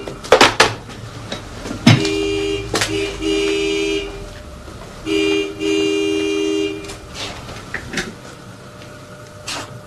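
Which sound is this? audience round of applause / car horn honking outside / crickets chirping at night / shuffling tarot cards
car horn honking outside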